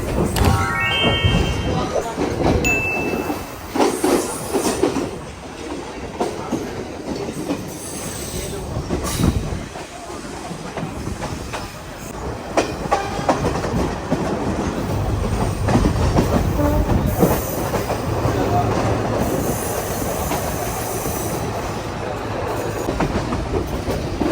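Riding inside a passenger train in Sri Lanka, the carriage gives a continuous loud rumble with rattling, clattering wheels and occasional squeals, while people talk onboard.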